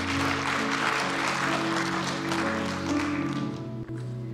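Church congregation applauding, a dense, steady wash of clapping from a crowd that fades slightly at the end.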